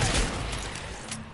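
Gunfire in the Fortnite video game: a dense, loud burst of rapid shots that runs without a break through the whole short moment, with no talk over it.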